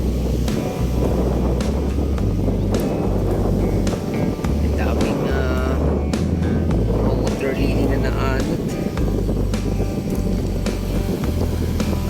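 Strong wind from a typhoon buffets the microphone at Manila Bay Dolomite Beach with a constant low roar and rumble, steady throughout, with faint talk half-buried beneath the gusts.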